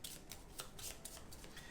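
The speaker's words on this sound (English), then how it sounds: "So we are gonna need to shuffle up and draw." A deck of cards for the My Little Pony Adventures in Equestria tabletop game is shuffled in a steady run of quick, soft riffling bursts, faint and close with no talking.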